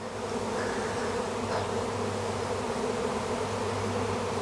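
A honeybee swarm fans at the hive entrance and marches inside in an apiary, giving a dense, continuous buzzing drone that stays steady and close throughout, with no talking.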